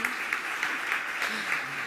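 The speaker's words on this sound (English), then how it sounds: "Please, big applause for Madeleine Toon." Applause from an event audience for a speaker introduced onto a summit stage, a steady broadband clatter of clapping filling the full two seconds at even loudness, with faint voices underneath.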